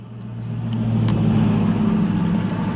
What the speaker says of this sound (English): Here come a car right here, y'all.